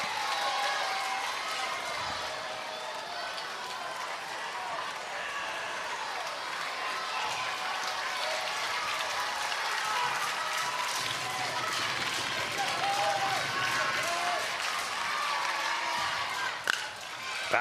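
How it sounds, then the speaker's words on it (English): A packed crowd at a sold-out Little League World Series baseball game cheers and claps in a steady, distant roar that swells slightly midway, with a commentator talking over it. "Both sides in a sold-out stadium here where there's not a seat, up on their feet cheering for their respective sides."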